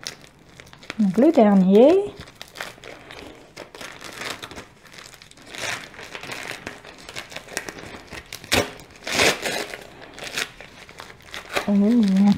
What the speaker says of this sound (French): Je vais devoir déchirer.